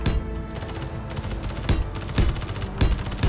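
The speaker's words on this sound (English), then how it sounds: "Bullets everywhere." Rapid bursts of gunfire in the Space Engineers video game, sharp repeated shots clustering into loud volleys with brief gaps, no voices over them.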